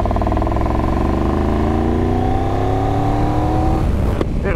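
A Triumph Tiger 1200 GT Pro motorcycle accelerates in fourth gear from tick over, its engine note rising smoothly and steadily, loud and close, before easing off.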